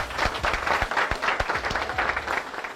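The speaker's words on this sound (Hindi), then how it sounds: "जोरदार तालियां" An audience applauds at a gathering, a dense, steady wash of clapping that holds for the whole stretch, with a few sharper individual claps standing out close by and no speech over it.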